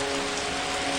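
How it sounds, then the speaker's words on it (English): Soft rain falling gently on tree leaves in a natural setting, a steady, even hiss with no distinct drops or other sounds. "soft rain fell gently from the sky"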